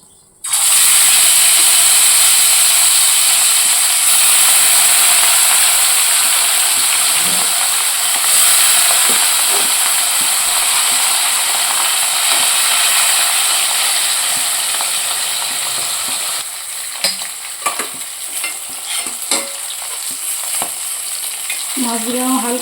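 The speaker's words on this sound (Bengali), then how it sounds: "এদিকে কড়াইতে তেল গরম হয়ে গেছে, দিয়ে দেবো মাছগুলো।" Fish pieces hit hot oil in a wok and set off a loud, sudden, continuous sizzle that holds steady and eases slightly toward the end, with faint clatter of stirring; no voices.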